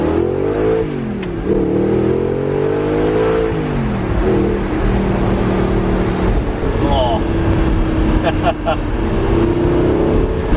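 A supercar with a gated manual gearbox revs through second gear toward 8,000 RPM, the loud engine note rising and falling across several pulls and shifts, heard from inside the cabin at close range.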